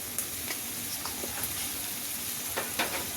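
An egg and tuna mixture seasoned with garam masala and black pepper fries in a pan, giving a steady soft sizzle with a few faint scraping stirs.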